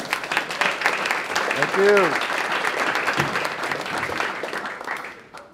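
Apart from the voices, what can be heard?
audience applause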